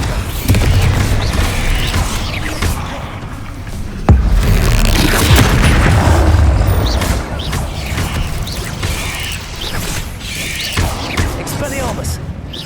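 Repeated spell explosions and magical blasts from the Hogwarts Legacy video game, with a loud boom near four seconds among continuous combat effects, music and character voices.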